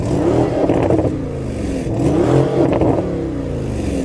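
A Lamborghini Urus SE revs its engine loudly and close by, a rising roar with deep burbling and crackling from the exhaust, swelling twice over a steady idle.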